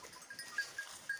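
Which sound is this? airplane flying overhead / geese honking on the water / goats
goats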